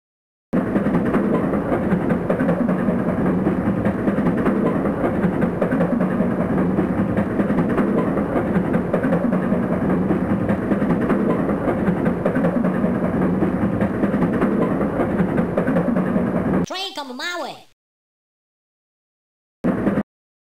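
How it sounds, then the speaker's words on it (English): A train in a video game rumbles past steadily and loudly with a rattling clatter for most of the stretch, then cuts off abruptly with a short tonal blip before silence. "Train coming my way."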